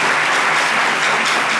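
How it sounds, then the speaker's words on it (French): Loud, dense applause from an audience at a midday cultural presentation, continuous clapping that fills the whole short stretch. "je pense qu'on peut applaudir"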